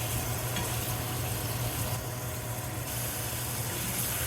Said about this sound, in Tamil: அதை லேசாக ஒரு நிமிஷத்துக்கு இந்த எண்ணெயில் வதக்கி எடுத்துக்கலாம்.